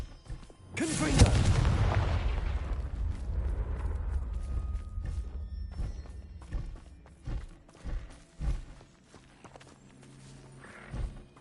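A Confringo fire spell explodes in the Hogwarts Legacy video game with one loud, close boom and a long rumbling tail, then fainter thuds and clanks as the rumble fades.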